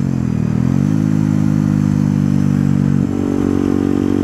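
A Yamaha WRX 125 motorcycle fitted with an Arrow exhaust, baffle removed, drones loudly up close, its engine rising in pitch early then holding a steady raspy idle-to-mid rev before dropping slightly near the end.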